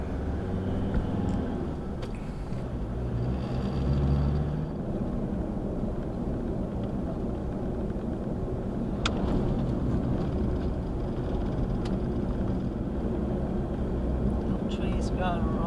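Car driving along the outback road to Boulia, a steady broadband rumble of engine and tyre roar holding throughout at an even level, with a faint click near the middle.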